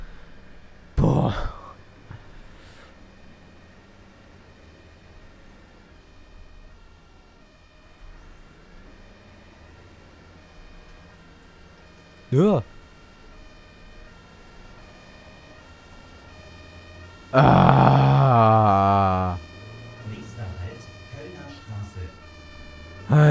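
An ambulance siren in the bus simulator Omsi 2 wails faintly and continuously in the background. Someone briefly speaks and sighs over it.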